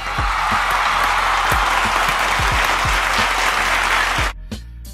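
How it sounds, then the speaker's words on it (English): A crowd gives a loud, close round of applause for a man, a dense steady roar of clapping that cuts off abruptly near the end, followed by a brief quiet tail. "This man deserves a round of applause."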